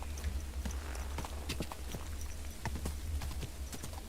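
Horse hooves clip-clop at a steady walking pace in a video game, with clear repeated close hoof strikes over a low constant rumble of background game ambience.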